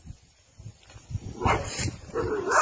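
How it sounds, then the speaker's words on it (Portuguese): A dog barks by a lakeshore thick with stingrays, a few sharp barks and yips at close range growing louder toward the end, with faint talking in the background. "Assustei com esse cachorro desgraçado."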